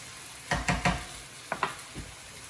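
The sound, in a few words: stirring duck fried rice with dry sherry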